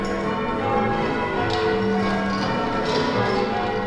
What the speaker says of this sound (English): You can go on ringing the changes for hours.